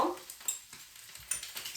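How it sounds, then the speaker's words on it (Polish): Brussels sprouts and pressed garlic frying together in a pan, giving a soft, steady sizzle with a few light stirring scrapes and clinks of a utensil against the pan, fairly quiet and close, with no talking. "Niech on się smaży razem z tą brukselką."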